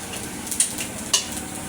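Fried potatoes lifted out of a sizzling pan, steady frying hiss with two brief sharp utensil clinks against the pan.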